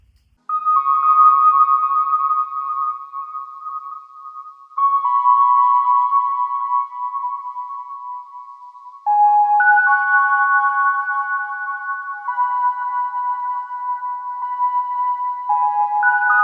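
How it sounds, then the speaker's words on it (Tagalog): Processed synth tones drenched in reverb and EQ ring out in sustained, shimmering chords that shift pitch every few seconds, loud and steady with no voices. "linagyan ko siya ng maraming effects dito, mga reverb, mga EQ, ganun. And pagtapos nun, ito na yung tunog niya."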